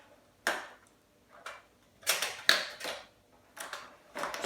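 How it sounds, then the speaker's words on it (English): Wire cutters snip through wiring inside an electric heater being scrapped for brass and metal, a series of sharp, close clicks and snaps spaced irregularly with quiet gaps between. "We'll cut these wires here first."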